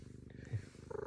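An affectionate cat purrs close up, a soft, rhythmic rumbling pulse that keeps going steadily and grows slightly stronger near the end, with no talking.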